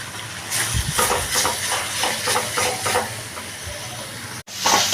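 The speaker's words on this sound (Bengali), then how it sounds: "টমেটোটা দিয়েও ভালো করে আমি কষিয়ে নিচ্ছি" Chopped tomato stir-fried in spice masala for a dhaba-style egg tadka: a loud, close sizzle with rhythmic spatula scrapes in the pan, a brief break near the end, then the frying resumes.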